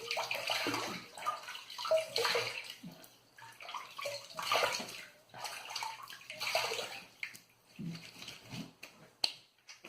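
Water splashing in irregular handfuls as a face is rinsed after a wet shave, with bursts of splashing and dripping separated by short pauses, close and fairly quiet, no talk.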